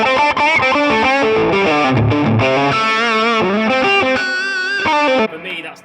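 Electric guitar played through a distortion pedal stacked with a compressor, a thick buzzing tone with chords and short riffs, loud and close, ending with notes ringing out.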